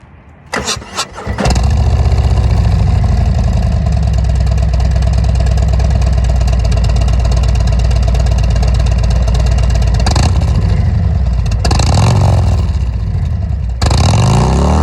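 Harley motorcycle fitted with a Rinehart 4.5-inch exhaust starts up with a few starter cranks, then settles into a loud, close, rumbling idle, with short throttle blips revving the engine near the end.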